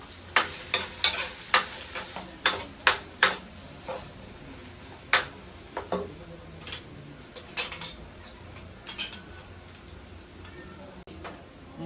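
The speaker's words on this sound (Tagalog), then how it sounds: "ang gagawin, yung patatas, isosotay muna" Potatoes sautéing in a frying pan for fried rice, a soft sizzle under a run of sharp scraping stirs and clicks of a utensil against the pan, busiest in the first few seconds then sparser.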